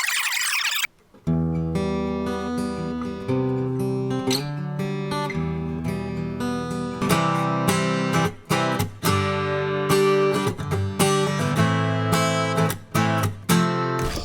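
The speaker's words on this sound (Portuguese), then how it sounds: "Agora vamos testar com o violão." An acoustic guitar strums and picks chords steadily, rich and full, played close, after a brief burst of noise at the start.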